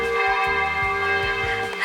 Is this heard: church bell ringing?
yes